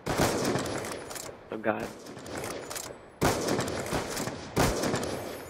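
Bursts of video game gunfire in a 1v1 match crack loudly in several sharp volleys, with a brief spoken exclamation between them.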